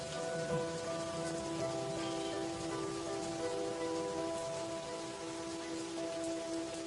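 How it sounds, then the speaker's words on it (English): Steady summer rain patters down on surfaces in a valley, a continuous even hiss with no voices, holding the same level throughout. "Summer rains come early to Hell Valley."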